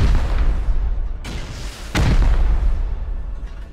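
Rocket explosions in Rust: two heavy blasts land about a second apart, each a sharp crack that swells into a low boom, over a rumbling background.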